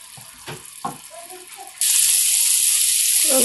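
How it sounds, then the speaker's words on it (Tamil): Water pours steadily into a cooking pan of orange peel pachadi, a loud continuous hissing rush that begins abruptly partway through after some quieter clatter. "இன்னும் கொஞ்சம் தண்ணி விடுறேன்."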